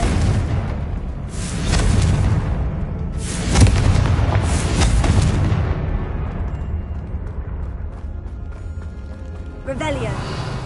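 Booming spell explosions from Bombarda and Confringo in the video game Hogwarts Legacy, heard as several heavy blasts with rumbling debris over the first half. A faint glimmering effect follows near the end.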